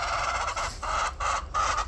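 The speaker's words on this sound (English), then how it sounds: "you can see my girls, my chickens." A hen in a backyard flock clucks repeatedly in short, close, loud bursts with brief pauses between them, alone with no talking.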